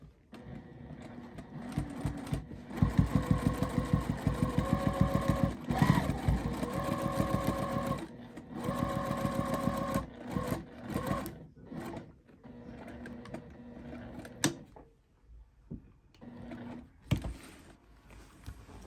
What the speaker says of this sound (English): now I'm going to quilt just the inside square